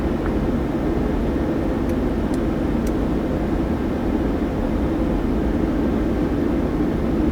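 A PMDG 737-800 in a flight simulator game begins its takeoff roll on the runway at Singapore, a steady loud broadband engine roar with a low rumble, continuous and without talk.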